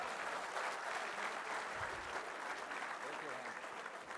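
Sustained applause from a large audience at an annual computing society event, a continuous even roar of many hands clapping that never breaks, heard from within the hall.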